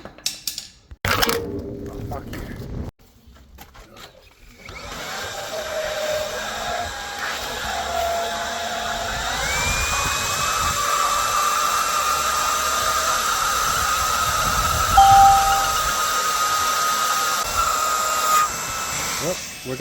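A vacuum cleaner pulling line through a conduit runs as a continuous whining roar that rises in pitch and holds steady, after a few handling clunks at the start.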